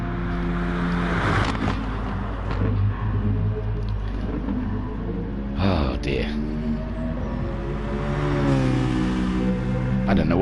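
Bugatti race car engine in a Gr4 racing video game, a steady loud roar with rising and falling revs throughout, under continuous commentator talk.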